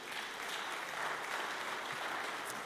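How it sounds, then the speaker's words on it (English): Audience applause at an athletic hall of fame ceremony, a steady wash of many hands clapping, somewhat distant and uniform throughout the short stretch. "give him a round of applause and his team"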